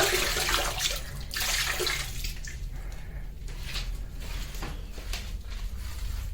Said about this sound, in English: the last step we need to do today is to work a bit with a sponge and the water